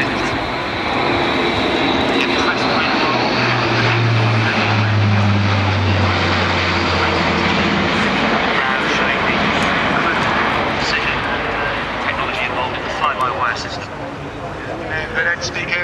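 An Airbus A400M turboprop with Europrop TP400 engines makes a flying display at an air show, producing a loud, sustained propeller drone and engine roar with a shifting low tone, while a commentator talks over it throughout.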